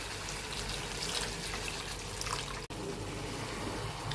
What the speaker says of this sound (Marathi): थोडंसं पाणी ॲड करायचं यामध्ये